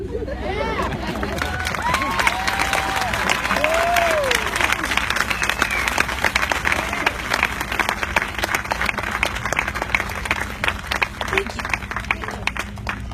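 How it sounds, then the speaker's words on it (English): An audience at a Relay for Life event applauds with dense, sustained clapping and some cheering, while a crowd murmurs underneath. "Another round of applause, please."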